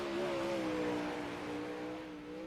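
A dirt track race car finishing its final lap at Volusia Speedway Park, its engine holding a steady, slightly falling drone at a moderate distance, alone without talk.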